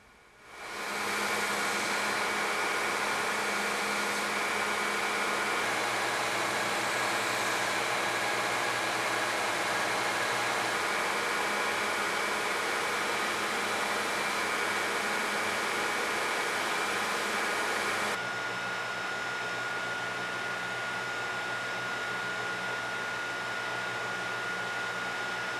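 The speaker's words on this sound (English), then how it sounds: "back to the grinder to take off the excess scale material, radius the handles" A belt grinder takes excess scale material off a boot knife handle and radiuses it. The tool gives a steady, close hissing roar that spins up at the start and drops slightly in tone partway through, with no talk.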